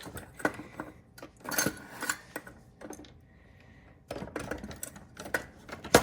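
Metal spoons clink and rattle as they are sorted into a kitchen drawer, with irregular bursts of sharp clatter broken by brief pauses, close and moderately loud.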